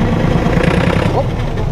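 A vehicle engine runs steadily and is given a little throttle while put in reverse during a recovery, a close, continuous mid-low hum with people talking nearby.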